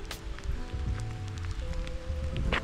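Rain falls steadily beside a roadside near Ayr, a close patter of drops under a low background rumble, with no voices.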